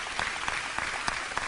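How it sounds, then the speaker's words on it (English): A small audience claps for the town of Blytheville at a COVID vaccination community event, a brief, moderately loud patter of hands with a few sharper claps standing out, and no one speaking. "Now let's give Blytheville a round of applause there,"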